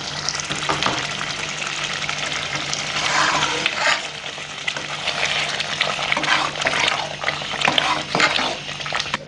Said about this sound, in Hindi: अब ये डालेंगे इसमें। जस्ट 2 से 3 मिनट के लिए यहाँ पे इसे पकने देंगे